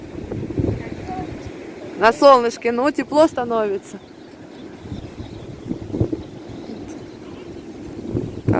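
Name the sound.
strong wind blowing into the microphone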